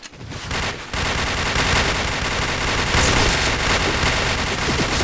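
Dense video-game gunfire roars in sustained automatic bursts, loud and nearly continuous after a brief opening pause, with rapid shots layered on top of one another.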